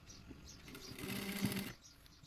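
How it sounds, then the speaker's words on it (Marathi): Sewing machine stitching fabric piping into a folded strip, a short quiet burst of whirring stitches in the middle of a faint room ambience. "आणि मग या खाचेत शिलाई मारायची."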